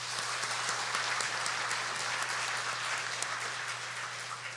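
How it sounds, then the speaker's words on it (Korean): A congregation gives sustained, dense applause during a church's 40th anniversary thanksgiving service, an even wash of clapping over a low electrical hum with no talk. "40주를 맞이하게 하신 우리 하나님께 이 시간 먼저 영광의 박수 올려드리겠습니다."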